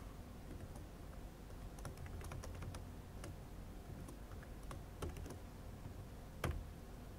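A computer keyboard clicks softly and irregularly as someone types code during a programming lecture, with scattered keystrokes and a few sharper taps over a quiet room hum.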